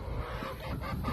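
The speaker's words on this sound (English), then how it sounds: "Time to feed the birds." Backyard poultry cluck and murmur close by at feeding time, a short burst of soft overlapping fowl calls over steady outdoor background noise.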